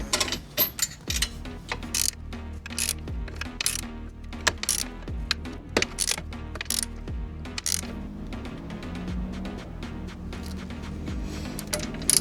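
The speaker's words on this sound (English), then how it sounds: "we'll be crushing this nutsert right now into the frame rail." A nutsert tool crushes a nutsert into a VW frame rail, a string of sharp metallic clicks and ratcheting clanks repeating in irregular bursts, close and fairly crisp against a low background hum.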